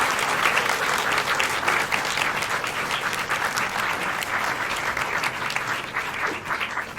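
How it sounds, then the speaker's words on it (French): Sustained audience applause at a French evening show at Cours Valmont, dense and steady clapping from a full room throughout, loud and even with no break. "On applaudit bien fort."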